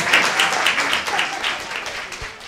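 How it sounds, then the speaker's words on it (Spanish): Audience applause at a live music show, a steady wash of many hands clapping at close range for the whole stretch, with no talk over it. "Y pedimos aplausos y todo eso"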